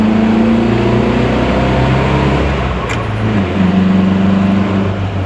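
A 1962 Triumph TR4's four-cylinder engine runs steadily at close range, a dense low rumble that dips slightly midway and then holds its idle again, with no talking.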